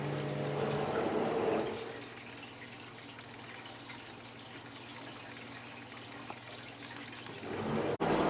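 Cooling water from a Coherent i70 laser water supply test pours and splashes out steadily, a broadband wash that swells near the start and again at the end, with no talking.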